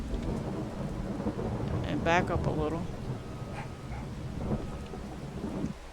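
Rain and rumbling thunder from Farming Simulator 22 fill the background while someone talks over it, with a brief bark-like sound partway through.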